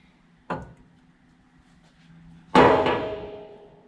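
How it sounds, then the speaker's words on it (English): A breaker bar loosens the crank pulley bolt on a Land Rover Discovery II. A sharp metallic knock sounds first, then a loud ringing clank decays with a metallic tail, close up and alone. "I'll loosen the bolt on the crank pulley."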